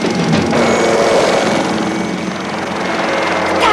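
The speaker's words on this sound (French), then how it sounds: "Je vais essayer de poser l'hélico." A helicopter's rotor and engine roar steadily and loudly throughout, a dense continuous drone in an action film scene as the pilot prepares to land.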